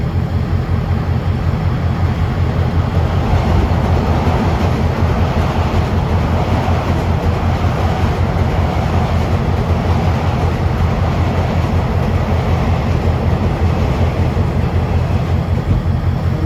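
A Long Island Rail Road train, number 2057 bound for Ronkonkoma, rumbles steadily past close by for a long stretch, with a continuous loud roar of wheels on triple-track rail and faint rhythmic clatter throughout.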